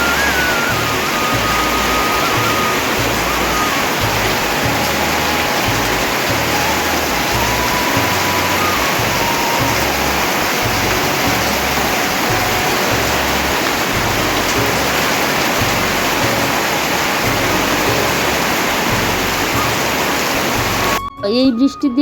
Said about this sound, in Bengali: আর এদিকে দেখো বৃষ্টিও চলে আসলো।